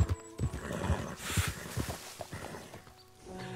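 Horse neighs and clip-clopping hooves from Red Dead Redemption II gameplay, with a whinny near the start and repeated thudding hoof beats running through, fairly close and steady, with no talk over them.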